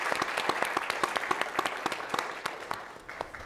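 A moderate crowd at an academy alumni panel claps steadily, with distinct individual claps audible throughout, and the applause gradually thins toward the end.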